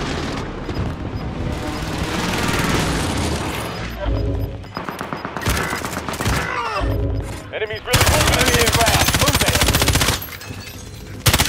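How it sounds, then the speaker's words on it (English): Call of Duty: Modern Warfare Warzone Resurgence quads match with a precision airstrike, rapid machine-gun fire and booming explosions that are loud and chaotic throughout. Sustained barrages alternate with short lulls, and players talk faintly beneath the noise. "Allied precision airstrike incoming"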